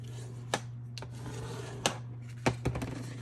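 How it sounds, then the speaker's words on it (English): Folded paper card stock being burnished along a crease for a 5.5 by 4 1/4 card, heard as a few short, close rubbing scrapes with pauses between them over a faint steady hum. "Now we're just going to burnish this."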